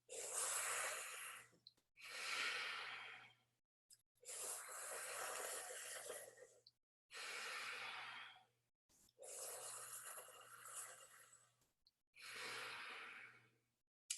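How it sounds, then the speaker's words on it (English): Slow, deliberate breaths drawn in through a tongue curled like a straw and let out through the nose, six long quiet breathing sounds separated by short pauses, close and alone. "the idea is curling the tongue and breathing in through the tongue like a straw"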